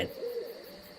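An owl hooting at night in the visual novel game Everlasting Summer, a single soft, sustained hoot over a quiet ambient background with faint insect-like hiss.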